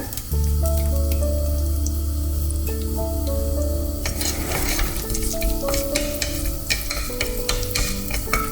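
Cashew nuts and cumin fry in ghee for ghee rice, a close crackling sizzle with scattered pops and stirring clicks, beneath a sustained low tonal hum that fades midway.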